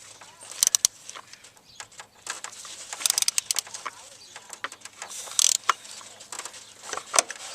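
Loosening the fuel filter drain on a 2000 Ford 7.3 Powerstroke diesel truck produces close, sharp metallic clicks and ratcheting ticks in irregular clusters over a low steady background.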